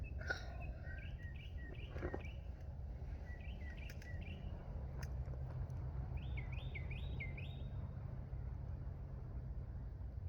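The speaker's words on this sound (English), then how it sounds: "Listen to this bird chirp." Short, bright bird chirps repeat in small bursts over a steady low engine hum, clear but not very loud.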